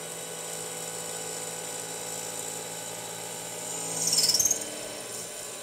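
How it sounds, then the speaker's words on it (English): Lathe boring out the inside diameter of a collet, a steady machine hum with faint tonal whine, then a brief, sharper high-pitched cutting squeal rising for about half a second before settling back. "now we can bore the ID of this collet to whatever diameter we want"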